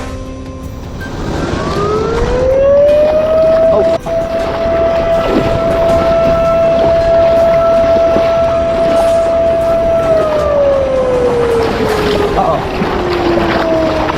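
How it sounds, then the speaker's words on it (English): A loud siren rises to a long steady tone, holds for several seconds, then slowly falls away, heard over wind and engine rumble. "a loud, blaring noise. A siren."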